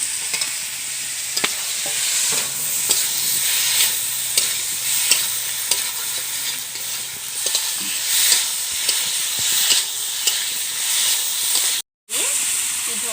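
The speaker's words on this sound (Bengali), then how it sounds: "আমি এখন ভেজে রাখা আলু আর বেগুন দিয়ে দেবো" Fried potatoes and eggplant hit a pan of cooked-down tomatoes, setting off a loud, continuous sizzle close by, with scattered scraping stir clicks over the hiss.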